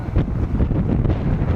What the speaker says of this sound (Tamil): இப்போ நாங்கள் கதைச்செண்டு போகிறதா இருந்தால் காற்று சத்தமாக இருக்கும்.